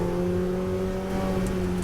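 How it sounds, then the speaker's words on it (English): Ferrari race cars at the start of a Ferrari European Challenge race in Valencia, engines holding a loud, steady high-pitched rev together on the grid. "So it is lights out and away we go for the very first round of the Ferrari European Challenge Championship"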